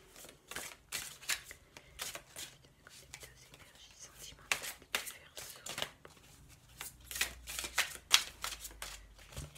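Large tarot cards are handled and shuffled close up, giving a series of crisp riffling and slapping bursts, with quiet speech in between.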